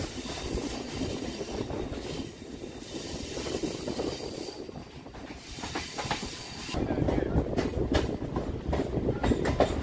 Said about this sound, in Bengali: এখান থেকেই আমাদের ট্রেনটা বাঁদিকে বাঁক নিয়ে পার্ক সার্কাস স্টেশনের